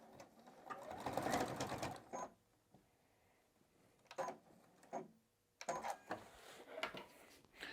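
A sewing machine back-stitches across the edge of an apron, running in several bursts of rapid mechanical whirring with short pauses between them, close and clear.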